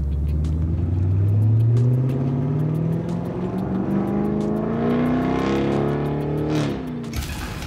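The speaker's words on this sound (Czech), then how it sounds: "Camaro jsem ještě nikdy neřídil" Chevrolet Camaro SS with a 500-horsepower engine driving and accelerating, its loud rumbling exhaust climbing steadily in pitch through the gears, heard from close by with no talk over it.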